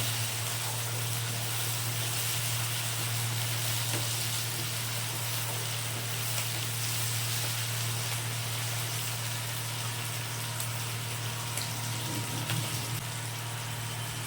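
Green chillies and tomatoes fry in a pan for a soybean curry, a dense, continuous sizzle with a steady low hum running beneath it and no talking.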